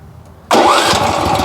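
A Motor Sich MB-13E walk-behind tractor engine suddenly catches and roars to life after a quiet moment, then runs loud and steady at a chugging idle close by.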